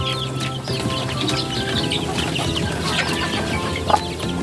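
A mother hen and her chicks fill the space with continuous clucking and soft peeping, close and busy, with no voices.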